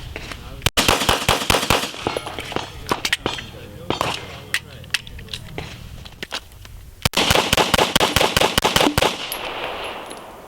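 A Glock 43 pistol fires at a range, sharp loud cracks coming in quick strings with short gaps between, the reports ringing out close and punchy over faint background noise.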